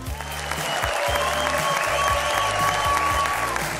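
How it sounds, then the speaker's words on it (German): A theatre audience claps dense, sustained applause for two teachers, Ferner and Hauptmann, at a cabaret premiere at the Orpheum in Vienna, with a rhythmic musical beat underneath. "werden die zwei Lehrer Ferner und Hauptmann vom Publikum eingeklatscht"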